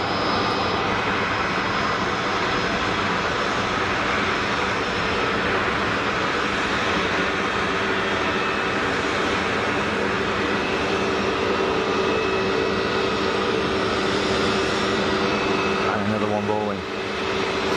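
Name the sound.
Airbus A320neo taxiing to the gate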